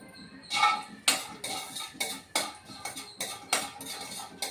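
Cashew nuts frying in a pan, stirred with a spoon that scrapes and clinks against the metal in repeated bursts, close and moderately loud, with no talking.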